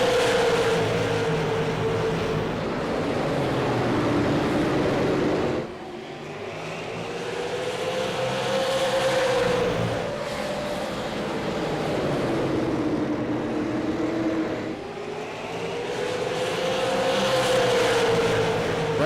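Super late model race cars lap the New Smyrna track, engines droning loudly and rising and falling in pitch as the pack sweeps by in repeating waves.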